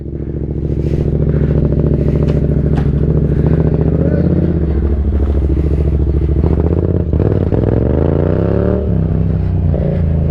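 A motorcycle engine runs loud and close, holding a strong steady drone that shifts pitch as the throttle changes, with some clatter and a brief drop near the end.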